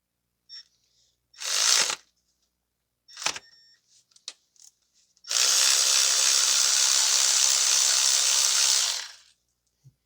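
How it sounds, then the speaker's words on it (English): A Milwaukee 3/8-drive electric ratchet with a 10 mm deep socket works bolts on a 2017 Toyota Corolla 1.8 during spark plug replacement: two short whirring bursts, a few light clicks, then one long, steady, close buzzing run of about four seconds. "I'm just using a Milwaukee electric ratchet"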